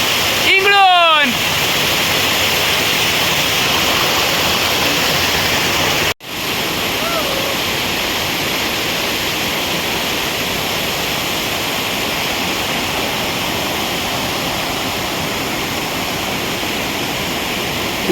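A dense, steady roar of falling water from the Paritewadi waterfall in the Sahyadri of Maval carries on at close range, with a short burst of voices at the start and a momentary break partway through.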